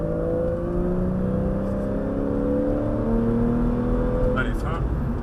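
A Porsche 911 engine drones at high revs on a race circuit, its pitch climbing steadily as it accelerates, with a brief higher whine near the end.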